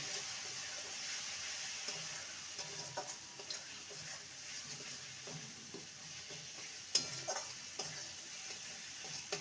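Ground coriander and Kashmiri chilli powder being stir-fried in a pan for a soya curry, a soft continuous sizzle with light scrapes and small ticking taps of a spoon, quiet and close, no talking.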